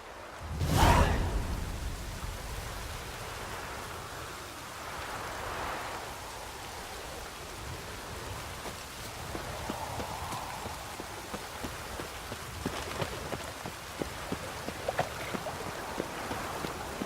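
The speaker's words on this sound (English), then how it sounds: "Witches have conjured rain" Rain conjured by witches in The Witcher 3: Wild Hunt, a steady broadband patter of drops on surfaces lasting throughout, with a loud thump near the start and scattered sharper drip impacts building later.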